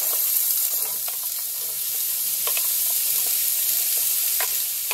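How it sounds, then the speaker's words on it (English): Onion sizzling steadily as it fries in a pan while a curry chicken is being prepared, with scattered scraping stirs over a constant hiss. "So now we're gonna add our onion."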